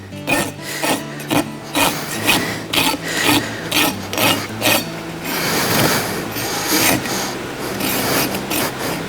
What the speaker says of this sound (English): I'll come under that nail at the same angle as the hoof wall and take any burr off.